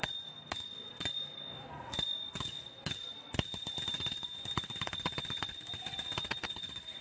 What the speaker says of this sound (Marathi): तर घंटीचा आवाज बघा।